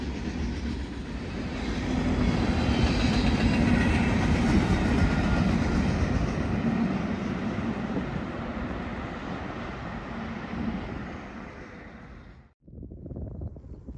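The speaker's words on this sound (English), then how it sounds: "a Kansas City Southern-led North Platte to Portland manifest flies by less than a mile west of the last location" A Kansas City Southern-led manifest freight train, bound from North Platte to Portland in the Columbia River Gorge, roars past with a loud, steady rumble of rolling wagons and wind buffeting the microphone, then cuts off abruptly near the end.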